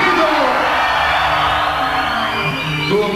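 A concert crowd at a 1995 Rostov show yells together on cue, a loud, sustained roar of shouting and whooping voices that fills the whole space and holds steady for about three seconds.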